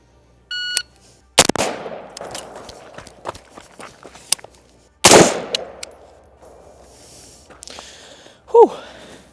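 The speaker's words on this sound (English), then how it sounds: "All right, we've got low ready, shot, run, shot." A rifle speed drill from low ready, with a timer beep followed by a sharp gunshot, running footsteps and a second loud shot, then another brief beep.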